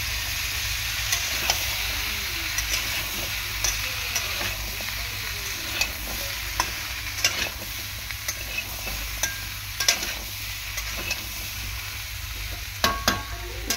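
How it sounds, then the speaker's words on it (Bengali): Vegetables (drumstick, papaya and potato, cooked with tiger prawns) sautéing with turmeric, chili and cumin in a pan: a constant hissing sizzle with repeated spatula scrapes and clicks, growing busier toward the end, no speech. "ভালো করে কষিয়ে নেব সবজিটাকে।"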